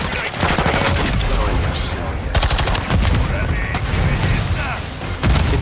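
Rapid bursts of turret gunfire in the Modern Warfare 2 remake, loud rattling automatic volleys with heavy booming impacts layered over battle noise, while a voice talks beneath the chaos.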